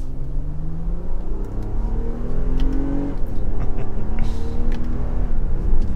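A Nissan Pathfinder cruises on the road, its steady engine hum and tire roar filling the cabin at an even, moderate level, with a slight rise in revs partway through and no talking.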